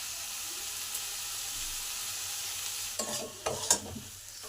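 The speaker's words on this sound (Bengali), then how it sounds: "মশলাগুলো আমার সব কষা হয়ে গেছে, টমেটো নরম হয়ে এসছে" Spices and tomato frying in a pan over low to medium heat for an eggplant dish, a soft steady sizzle joined near the end by a few scraping, clattering stirs.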